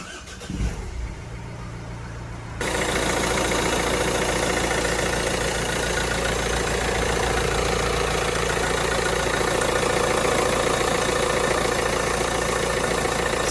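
A car engine cranks and starts after a timing belt, trigger belt and water pump replacement, then settles into a loud, steady close idle that holds for the rest of the clip.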